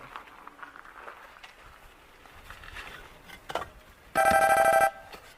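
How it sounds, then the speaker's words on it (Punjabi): A telephone rings in one sustained electronic burst near the end, loud and close, after a stretch of quiet room noise and faint movement. "ਉਹ ਮੇਰੇ ਪੁੱਤ ਦਾ ਫੋਨ ਆ ਗਿਆ ਆ"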